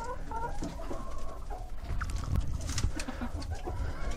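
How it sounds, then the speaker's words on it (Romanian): Hens and a rooster from a Romanian backyard flock, including a crested hen and a 2020 cockerel, cluck steadily nearby, with overlapping calls running throughout and no voices. "Cocoșelul."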